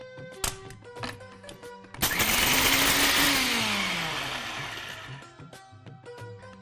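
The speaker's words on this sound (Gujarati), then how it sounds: "આપણા બધા જ મસાલા આપણે મિક્સર જારમાં એડ કરી દીધા છે. હવે આપણે એને પીસી લઈશું." A kitchen mixer grinder whirs loudly for about three seconds as it grinds a jar of spice powders, including dry ginger powder. Its pitch sags as it winds down, with background music before and after.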